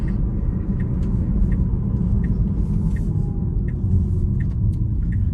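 A Tesla electric car drives slowly while making a U-turn at a roadside pull-out, a steady low road rumble close by with faint intermittent clicks above it.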